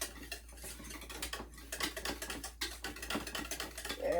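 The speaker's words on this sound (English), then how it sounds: "you really have to have a whisk for this part because the mayonnaise and the vinegar don't like each other for some reason" Whisk beating mayonnaise and vinegar together in a bowl for a creamy coleslaw dressing, fast rapid clicking and tapping against the bowl, close, quiet and continuous, with no talking.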